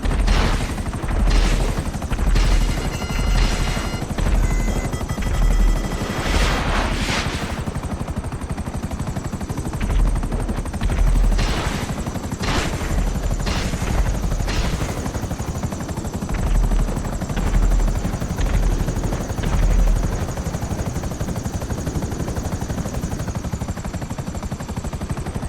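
Savage attack helicopter from GTA 5 Online, a steady rotor drone with loud bursts of cannon fire and explosions cutting in repeatedly over the first seconds and again mid-way, no talking.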